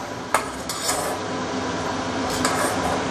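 Metal utensil scraping and clinking against a cooking pot as garlic is lifted out of simmering pork belly bak kut teh, with a few sharp taps over a steady bubbling hiss.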